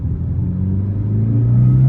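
A 30-year-old Mitsubishi Evo 1 turbo car accelerating in a lower gear, its engine note rising in pitch from a deep, loud rumble, heard close up with no talk.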